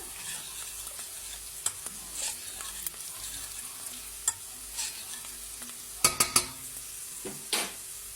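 Turmeric, cumin and coriander are stirred into oil in a frying pan, a quiet sizzle under intermittent scrapes and sharp metallic clinks of a spoon against the pan, with a cluster of taps near the end.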